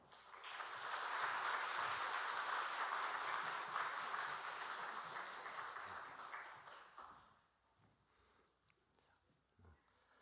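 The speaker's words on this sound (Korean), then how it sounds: "나오실 때 환영과 격려의 박수로 모시겠습니다." A church congregation claps steadily for several seconds to welcome missionary speakers, the applause swelling then fading out into a quiet room.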